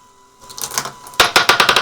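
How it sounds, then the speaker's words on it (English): A fischertechnik model motor (motor 1) on a BeagleBoard-controlled roller starts up with a quick mechanical clatter, then runs louder as a rapid, steady stream of sharp ticking clicks close by. "I am engaging motor 1"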